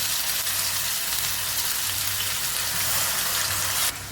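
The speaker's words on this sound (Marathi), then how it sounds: "आणि परतून घेऊया अगदी तेल सुटेपर्यंत" Continuous hissing sizzle of a spice paste sautéing in oil, even and close, ending abruptly; nobody speaks.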